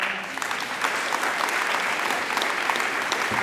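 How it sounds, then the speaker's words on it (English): Town hall audience gives a congresswoman a round of applause, steady sustained clapping throughout at moderate level. "let's give her another round of applause"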